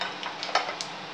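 Mustard seeds and urad dal crackle in hot oil in a pan with soft sizzling and scattered sharp pops, close and fairly quiet.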